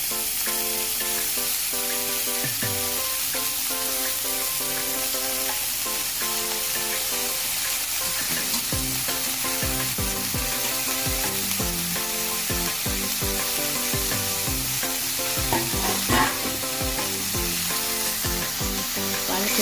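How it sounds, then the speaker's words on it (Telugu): Chopped spinach and onions fry in a hot pan with a constant broad sizzle and occasional stirring, heard beneath continuous music with no talking. "పాలకూర కూడా వేసాక ఒక్కసారి ఉల్లిపాయలు, పాలకూర అంతా నీట్గా కలుపుకోవాలండి"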